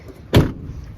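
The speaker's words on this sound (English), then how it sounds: "Now it actually latches" A door that has just had its latch repaired swings shut and latches with one short, solid thunk up close, followed by quiet room tone.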